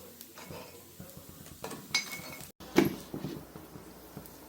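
Cooked carrot and drumstick-leaf paniyaram lifted out of a kuzhi paniyaram pan, giving light metallic scrapes and clinks of a utensil against the pan, a few close taps and one brief bump, with no talking.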